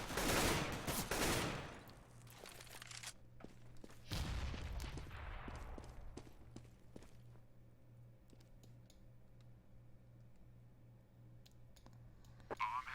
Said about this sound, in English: they're gonna shut them down with these pistols